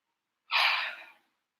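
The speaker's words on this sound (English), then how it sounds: "you breathe in" One quick, close breath drawn in through the nose, a soft airy hiss that rises sharply and fades over about half a second against silence.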